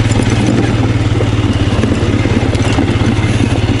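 A Royal Enfield Scram 411 motorcycle rides along a rough, sandy dirt track off road, its single-cylinder engine chugging in a steady, close, loud pulse with scattered clatter and scraping underneath.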